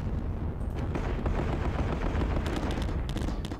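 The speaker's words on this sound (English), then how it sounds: "We can lay down some suppression fire here, why not?" Suppression gunfire in the Panzer Battles Kursk video game, Southern Flank battle near Prokhorovka: a dense, continuous crackle of rapid shots and booms that stays loud and steady throughout, with no talking.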